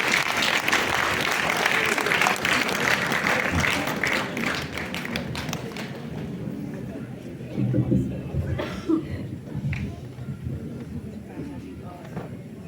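Audience applause at the Ahilyabai Holkar Mahila Samman Samaroh in Shimla, welcoming a guest; a burst of crowd clapping that fades after a few seconds, followed by someone speaking over scattered hall noise.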